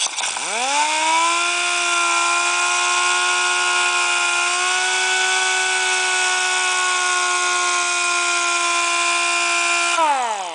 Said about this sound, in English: I'm gonna polish off this way now